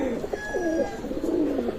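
Teddy pigeons coo softly and repeatedly at close range in a loft, a few low warbling calls rising and falling over a faint background murmur.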